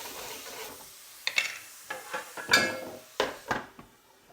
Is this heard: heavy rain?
no